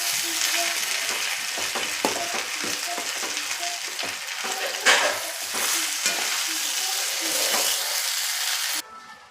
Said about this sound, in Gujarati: જો બધા સાબુદાણા આપણે એડ કરી દીધા છે. હવે એને મિક્સ કરી દેવાનું છે.